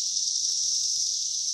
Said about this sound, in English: Sometimes they all make a buzz in unison and it gets so loud you can't hear anything else.